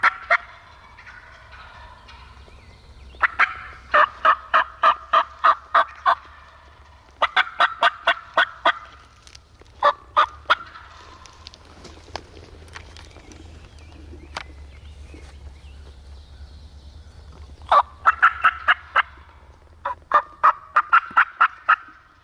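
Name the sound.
wild turkeys gobbling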